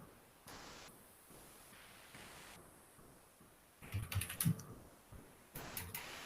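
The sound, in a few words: typing on a computer keyboard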